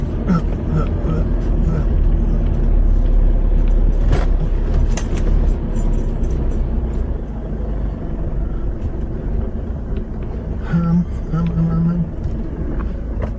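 A 4WD grinds over sand dunes at Wilbinga, its engine a loud, steady drone with a low rumble throughout that eases slightly partway through, with occasional knocks from the vehicle.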